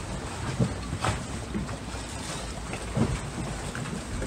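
Wind and waves wash around a sailing boat in about 24 knots of breeze at sea, a steady broadband rush with a few louder surges where waves slap the hull, no voices.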